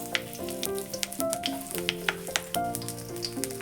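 Cumin, mustard seeds, dals and green chillies frying in a pan for vegetable fried rice, giving a steady close sizzle with sharp pops and crackles throughout, while a music track plays over it.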